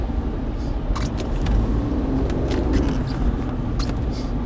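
Car traffic heard from inside a moving car on Sydney roads: a constant rumbling road and engine drone with scattered clicks and rattles, loud and close, without talk.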